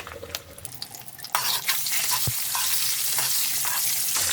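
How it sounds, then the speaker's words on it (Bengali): Eggs frying lightly in hot oil with a sprinkle of turmeric, a steady close sizzle that jumps louder partway through and holds, with a few sharp pops and spatters. "আমি একটু হালকা করে ডিমগুলোকে চিরা লাগিয়ে হালকা ভাজবো, বেশি ভাজবো না"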